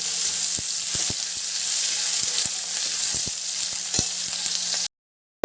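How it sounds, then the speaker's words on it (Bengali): Chopped onion fries in hot oil with a dense, even sizzle, punctuated by small pops and light taps of a spatula, close up before cutting to silence. "এবার দিয়ে দিচ্ছি পেঁয়াজ কুচি পেঁয়াজটাকে ভালো করে ভেজে নেব"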